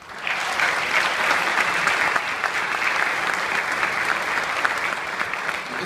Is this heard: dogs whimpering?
no